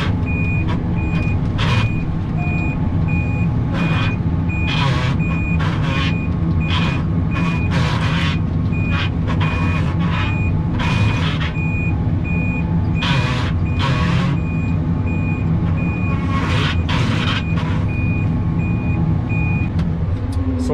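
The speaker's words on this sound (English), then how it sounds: "We're just gonna back the manure tank into the shop here." A manure tank vehicle backs into a shop, its reversing alarm beeping steadily in regular pulses over a loud, constant engine rumble.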